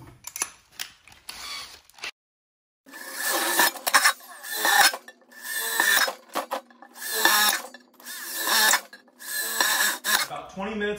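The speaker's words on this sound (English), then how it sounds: "this one here is gonna require quite a bit more drilling" A power drill bores holes into a metal container for a small DIY camp stove, grinding and rasping in several loud bursts separated by brief pauses.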